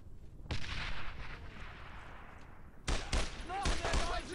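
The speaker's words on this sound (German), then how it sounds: "Granate!" A grenade bursts in the Brothers in Arms: Road to Hill 30 World War II shooter, followed by sharp rifle and machine-gun shots cracking in a quick cluster, with a voice speaking over the fire.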